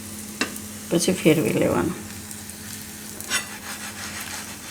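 Dudhi bateta uttapam, a bottle gourd and potato pancake, cooks in a pan over low gas. A brief burst of sizzling and stirring rises under a spoken voice and then fades back to quiet.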